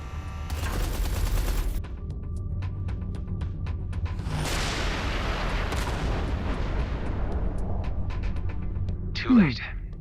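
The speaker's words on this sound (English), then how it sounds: "Watch out! The artillery!" Artillery fire in the space-combat game Everspace 2 comes as repeated heavy blasts and rumbling barrages over a constant low engine drone, with a few sharp transients and a brief whooshing sweep near the end.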